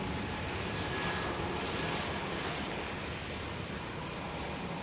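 A Singapore Airlines Airbus A380 at London Heathrow produces a dense, steady engine roar, loud and sustained from start to finish, with wind-like rushing mixed in.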